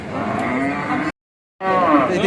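Two dairy cows at a village cattle market low in long, loud, harmonic moos, one call cut off abruptly by a half-second gap before another begins.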